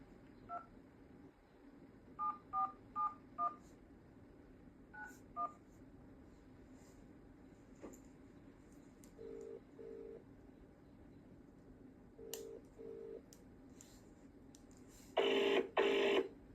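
Telephone keypad tones sound as a mobile number is dialed: a series of short, evenly spaced beeps in quick bursts, then a pair of longer ringback tones repeating, ending in a louder sustained tone, all clear and close against quiet background.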